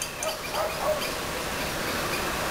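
A dog barks a few times in quick succession, faint and somewhat distant over a steady outdoor background hum.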